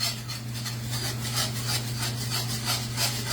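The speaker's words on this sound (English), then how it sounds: "You better get the whisking." Gravy is whisked in a pan with quick, rhythmic scraping strokes that repeat evenly throughout, close by, over a steady low hum.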